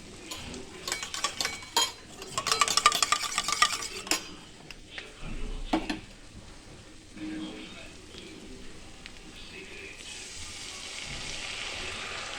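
Whisked yogurt being stirred into a paneer curry in a pan, with spoon scrapes and clinks against the pan, busier early on, then a soft sizzle; a voice is heard briefly.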